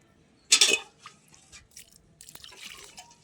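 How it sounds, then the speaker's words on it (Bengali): Water tipped onto a freshly potted plant: a sudden splash into the soil, then scattered small drips and trickles, close by and fading to quiet patters. "এবারে জল দিয়ে দেবো এর মধ্যে।"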